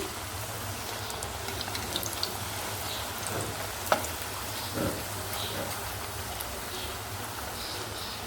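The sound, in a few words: bottle gourd fritters deep frying in oil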